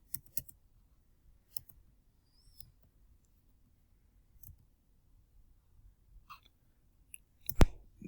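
Mouse clicks on a computer while running an HTML5 project in NetBeans: sparse, faint, dry clicks scattered over a quiet background, with one sharper, louder click near the end.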